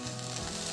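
Jaggery dropped into a hot pan gives a steady, close sizzle with a bright hiss lasting under a second, with no voices.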